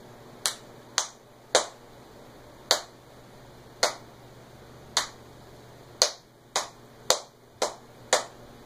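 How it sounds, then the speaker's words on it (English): Hands clap out a rhythm indoors: eleven sharp, crisp claps at uneven spacing over about eight seconds, close and clear in an otherwise quiet room. "she's going to go ahead and clap the rhythm on line B"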